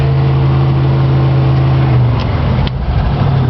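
A 1975 Ford Bronco with a 351 Windsor V8 and NP435 manual transmission drones loudly and steadily up close, then shifts into second gear partway through: the engine note drops and a brief clunk follows before the drone resumes.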